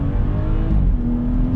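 A Litchfield Stage 1 tuned BMW M240i pulls hard in second gear, the engine note rising loud and steady from inside the cabin as it accelerates.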